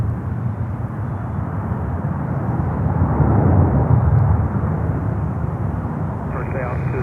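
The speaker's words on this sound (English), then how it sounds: "And then we have American Airlines with a Dreamliner coming in from Barcelona." An American Airlines Dreamliner jet comes in to land, its engines making a broad, steady roar that swells slightly midway, heard at moderate distance under a speaking voice.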